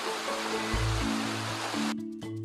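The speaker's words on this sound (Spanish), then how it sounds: "Hay demasiado ruido cerca de la cascada." Waterfall, a steady rushing wash of water heard over a low hum, fairly loud and unbroken throughout.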